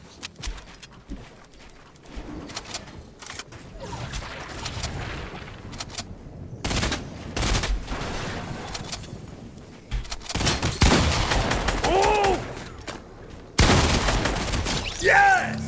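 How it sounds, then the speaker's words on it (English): FAMAS fire in Fortnite comes in sharp, close bursts and rapid volleys, scattered early and then heavy and sustained near the end, mixed with impacts and game effects while a player talks over it. "That's because I'm using a FAMAS."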